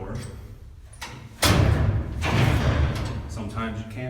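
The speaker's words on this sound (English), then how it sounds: "Try to open a door." A big heavy cell door in an old county jail is pulled and swung, a deep metallic thud and scraping rumble sounding close, with people talking around it.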